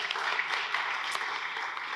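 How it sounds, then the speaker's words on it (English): A conference audience at a panel on new nuclear power construction applauds steadily, a dense even patter of many hands that holds without a break. "Yeah, round of applause, let's do it."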